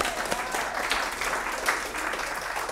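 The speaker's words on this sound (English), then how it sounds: "That one I want a round of applause." Steady, moderately loud audience applause at a parlour magic show, continuous clapping with a few sharper claps standing out throughout.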